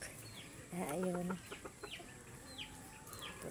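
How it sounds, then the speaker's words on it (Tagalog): Chickens and hens clucking at a quiet farmyard, one louder burst of clucks up close followed by softer scattered calls and distant chirps, no talk. "Yun po mga manok ko, may mga babae."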